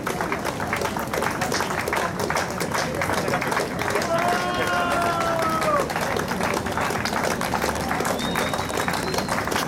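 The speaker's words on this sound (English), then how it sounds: "Unless you applaud them loudly, we can't really start off the rest of the ceremony. So give them a loud cheer." An audience at an outdoor cancer-awareness run ceremony applauds continuously with scattered cheers and whistles, while a voice speaks over the crowd.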